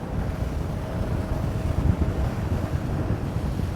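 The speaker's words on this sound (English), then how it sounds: "Proper gust into this little strait here." Blustery wind buffeting the microphone over open water during the Stockholm Archipelago Raid sailing race, a low rumbling gust with boat and water noise beneath, no voices.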